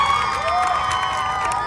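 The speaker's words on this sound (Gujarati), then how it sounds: "સ્વાગત કરો છો જોરદાર તાળીઓથી એકવાર." A game show studio audience cheering and applauding to welcome guests, a dense continuous roar of whoops and clapping, loud and close throughout the short burst.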